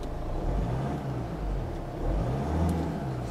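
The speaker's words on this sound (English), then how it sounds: "The standard engine noise is something a little like this." Kia Sportage family car engine hums at a low, steady drone while driving, with mild swells in pitch as revs rise and fall, moderately loud from inside the cabin.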